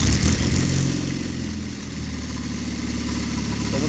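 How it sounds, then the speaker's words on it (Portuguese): A car engine runs steadily at idle during an automotive diagnostic check, a loud, continuous close rumble with no speech. "vou funcionar o motor aqui de volta"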